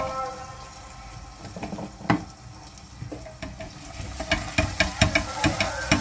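A frying pan holding broth and cumin is stirred, giving wet sizzling and liquid swishing up close, with a run of quick, sharp clinks and scrapes of the utensil against the pan that grow louder toward the end.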